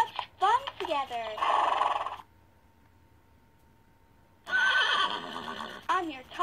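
A talking toy pony lets out electronic neighs and whinnies, two bursts separated by a silent gap, each with wavering descending calls and a sung or spoken voice mixed in.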